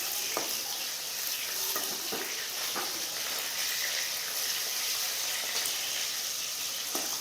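Fish frying in a pan for a fish curry, a steady close sizzle running throughout with small clatters of stirring and utensil taps.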